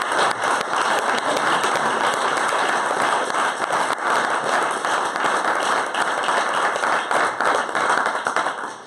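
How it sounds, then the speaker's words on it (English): Conference audience applauding a team of organizers, dense steady clapping from many hands filling the room, continuous and loud throughout without a break. "So if we could just give them a round of applause."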